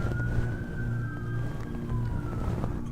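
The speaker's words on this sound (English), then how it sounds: "Sirens." Police sirens pass outside, a steady wailing tone that slowly falls in pitch, fairly distant over a low constant hum with no talking.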